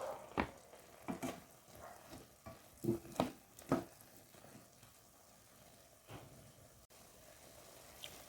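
Chicken cubes dropped into a hot pan for a Filipino coconut chicken curry, with a soft steady sizzle under several close clattering stirs and knocks of a utensil, fading to quieter frying.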